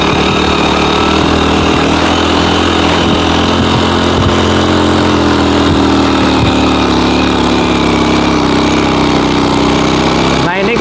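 Motorcycle with a newly replaced gear sprocket and chain climbing an uphill village road, its engine droning loudly and steadily throughout at close range, ending with a brief change near the end.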